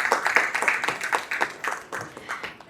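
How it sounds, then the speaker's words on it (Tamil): Audience clapping at a prize-giving for a kolam drawing contest hosted by a jewellery store in Villupuram; sharp individual claps fall in an uneven, fairly close rhythm, with short gaps between them. "ஒரு ஜிஆர்டிக்கு ஒரு பெரிய கைத்தட்டல் கொடுத்துருங்க நீங்க."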